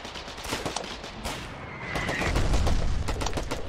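Rapid gunfire in a video game, aimed at an enemy blueprint under construction on the northeast side; dense, overlapping bursts of shots run throughout and swell into heavier, booming fire toward the end.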